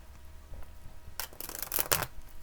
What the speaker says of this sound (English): I'm going to shuffle this deck really quick